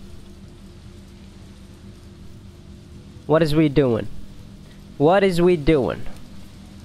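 Steady rain falls across the scene in Resident Evil 3 Remake, a constant wash of downpour running throughout, with a voice speaking over it in two short bursts.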